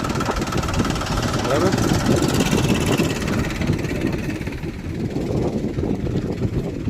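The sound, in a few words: tractor engine starting and idling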